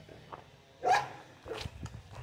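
A dog in a kennel on a country property in Bragança Paulista gives a couple of short barks at a moderate distance over faint ambient noise.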